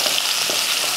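Garlic cloves, dried red chillies, mustard seeds and urad dal sauté in hot oil, a brief dense hiss of frying, close and steady, with no voices.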